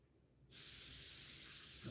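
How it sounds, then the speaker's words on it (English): An airbrush sprays paint for model painting, starting abruptly after a short quiet moment and then hissing steadily and loudly without a break. "So make sure it's spraying okay."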